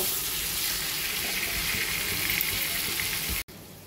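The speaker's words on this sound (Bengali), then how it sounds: "আলুটাকে এবার পেঁয়াজের সঙ্গে একটু ভেজে নেব।" A medium potato, cut into small dice, fries with onions in a pan, giving a steady, close hiss of sizzling oil that runs unbroken for about three and a half seconds before cutting off abruptly, with no talking.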